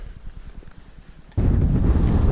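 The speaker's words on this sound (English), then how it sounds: "it's super windy, so we won't stop for long" Strong wind on a hilltop along the Southern Upland Way buffets the microphone, rumbling low and steady, then suddenly surges into a loud, continuous roar of gusting wind.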